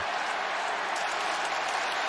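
A football stadium crowd at a New England Patriots versus Indianapolis Colts NFL game roars steadily, a broad, continuous wash of distant cheering and clapping with no letup.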